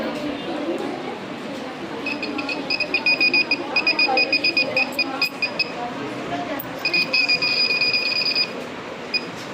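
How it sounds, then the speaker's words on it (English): An Arduino-based earthquake detector at a school science fair sounds its buzzer alert: two bursts of rapid, shrill electronic beeping, the second shorter, over steady crowd chatter. "the Arduino will trigger the buzzer and show an alert"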